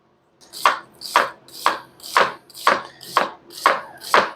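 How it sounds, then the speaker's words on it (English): Knife slicing through an onion on a cutting board, eight evenly spaced crisp chops in a steady rhythm, close and clear with nothing else heard. "So for the onion, cut both ends off"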